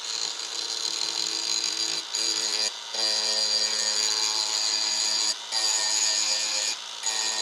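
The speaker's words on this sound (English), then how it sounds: "So I quickly restored that edge right there with the full grinding wheel" Bench grinder wheel sharpening a zero turn mower blade, a loud continuous high-pitched grinding whine broken by several short gaps where the blade lifts off the wheel.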